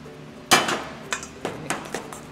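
Butter and chives stirred in a hot pan, with a spoon knocking and clinking against the metal in several sharp, uneven taps, close by and without speech.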